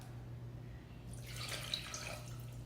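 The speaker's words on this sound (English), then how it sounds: "A cup of water." A cup of water poured onto sugar in a pot for Korean tanghulu candy, a soft splashing gush starting midway and running for about a second and a half over a quiet room hum.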